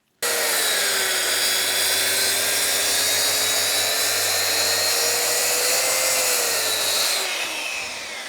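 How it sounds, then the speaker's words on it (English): A track saw cuts a straight slot through a live edge wood slab, its loud steady whine starting abruptly and holding for about seven seconds before tapering as the cut finishes. "I'm just going to use a track saw now to give me a straight line between these 2 holes"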